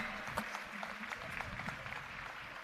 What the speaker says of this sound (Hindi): जोरदार ताली बजती रहें